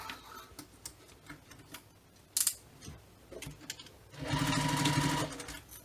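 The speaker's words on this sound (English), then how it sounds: "You'll also sew a second row of stitches just as we did for the exterior." Sewing machine stitching the lining gusset of a fabric business bag: a few light mechanical ticks and clicks, then a steady, loud run of rapid needle stitching for about a second before stopping, with no talking.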